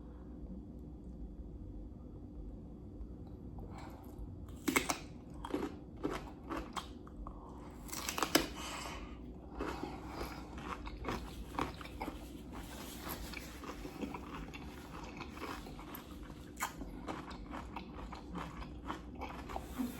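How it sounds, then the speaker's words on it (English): Close, repeated crisp crunching and wet chewing as someone bites into spicy sushi boats made from fresh cucumber topped with shrimp. Irregular bites sit over a low steady background hum, with no talking. "The freshness and the crunch of the cucumber,"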